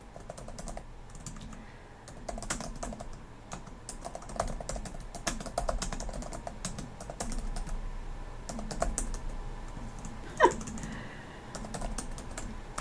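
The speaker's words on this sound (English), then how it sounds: "I'm just typing it here for demonstration purposes." Fingers type on a computer keyboard, a steady patter of soft, close clicks and key taps with brief pauses and one sharper tap near the end.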